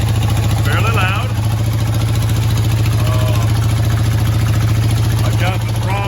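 A 1979 Harley-Davidson Roadster XLS1000 motorcycle engine idling loud and near in a steady low throbbing rumble with the choke partly open, while someone talks over it.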